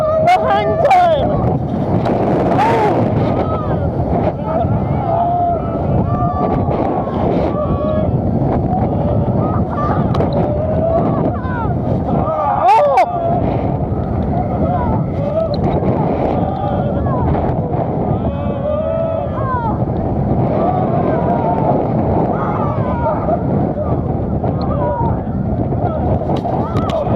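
Front-row ride on Toutatis, an Intamin multi-launch roller coaster at Parc Astérix: roaring wind buffets the microphone and the track rumbles loudly and steadily, with riders shouting and talking excitedly throughout.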